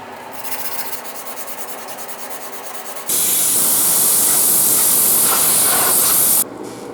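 Hand sanding the door jamb of a 1965 Thunderbird with 80 grit sandpaper: a fainter scratchy rubbing gives way to a loud, steady, broadband grinding rasp that holds for several seconds before easing off, near and with no voices.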